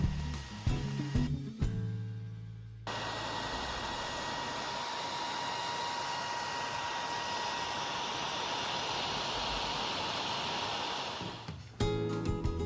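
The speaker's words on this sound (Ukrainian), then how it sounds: "До відносних недоліків хочу віднести той шум, який ви чуєте на задньому плані, це шум нашого кулеру." A steady broadband whirring hiss of a bi-LED headlight's cooling fan drones for most of the clip, bracketed by short bursts of clattering handling noise at start and end.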